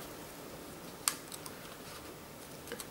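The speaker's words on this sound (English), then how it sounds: "fairly fine tip scissors" Fine-tip scissors snip through card for a stamped papercraft project: one crisp close cut followed by a few smaller faint snips over quiet room noise.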